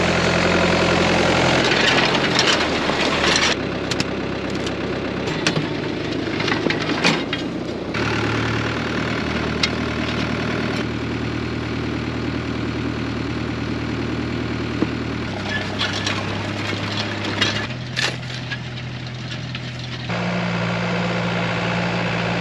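A tractor engine laying plastic mulch on a vegetable farm, running loud and steady with a deep low rumble that shifts pitch slightly as the load changes, heard close and alone.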